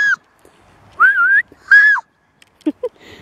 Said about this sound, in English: Is that you whistling?